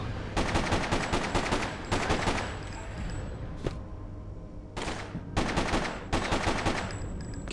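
Dense automatic gunfire from the video game Freedom Fighters: loud, sustained bursts of rapid shots with brief pauses between volleys, filling the whole stretch.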